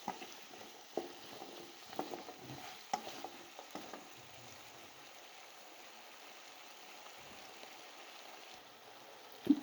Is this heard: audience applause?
no